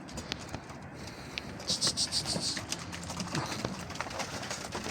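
Pigeons gathered at the door of a rooftop coop, with soft cooing and brief wing flutters against a steady outdoor background, the birds fairly close but not loud.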